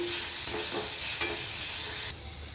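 Raw mango curry seasoned with chili powder and turmeric is stirred in a pan, a soft sizzling hiss broken by a couple of sharp spoon scrapes, quieter near the end.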